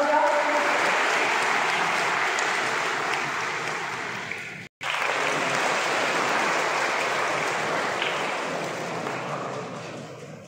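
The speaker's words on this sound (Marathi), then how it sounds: "जोरदार टाळ्या" Loud, sustained applause from an audience at an honouring ceremony in Junnar, held by a wildlife trekkers group, with a bouquet being presented. The clapping runs dense and steady for about ten seconds, breaking off once for a split second midway.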